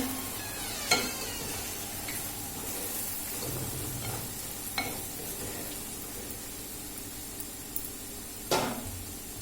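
Prawn curry sizzles steadily in a pan as masala is added, a soft continuous frying hiss with a few sharp clinks and stirring scrapes, close by and without talk.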